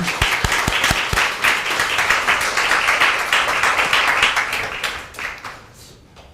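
A church congregation applauds during a Sunday worship service, with dense, loud clapping that holds steady for several seconds before thinning out and fading at the end.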